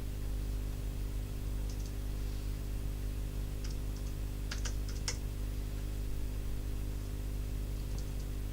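Scattered keystrokes tap on a computer keyboard in a few quick clusters, faint and close over a steady electrical hum and hiss, with no one speaking.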